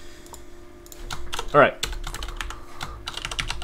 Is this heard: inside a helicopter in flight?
no